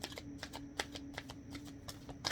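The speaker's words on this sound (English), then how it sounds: "And you guys see me shuffle," A deck of oracle cards being shuffled, a quiet rapid series of crisp riffling flicks in an uneven rhythm, close and faint.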